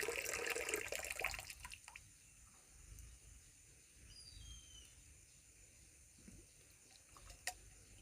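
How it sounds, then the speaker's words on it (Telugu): Liquid poured from a bottle while mixing OWDC organic waste decomposer for farm use: a splashy pour in the first two seconds, then a quiet trickle and faint drips against low background noise. "బాటిల్ మొత్తం పోస్తుంది"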